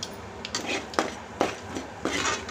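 Masala paste is stirred in hot oil in a pan, with a spoon scraping and knocking against the metal in an uneven rhythm over a steady background hiss of sizzling.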